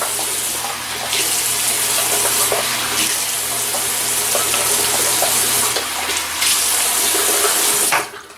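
A bathroom tap runs steadily into a sink as water is splashed on a face before shaving, with a constant rushing flow and small splashing changes until it shuts off near the end.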